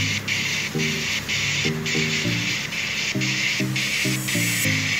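Water spray blasting an air conditioner filter at home during cleaning, a steady loud hiss in bursts with brief pauses, mixed with a tonal whine, with no talk.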